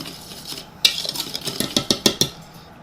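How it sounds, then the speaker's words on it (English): Flour, cinnamon and baking powder are whisked in a bowl for a chocolate banana flour cake: quick rhythmic metallic taps and scrapes of the whisk against the bowl, close and fairly loud, with no talking. "We're just gonna whisk this together."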